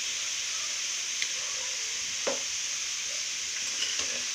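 Mixed vegetables sizzle steadily in a hot pan, salted and tossed, with a constant frying hiss and a few soft stirring scrapes.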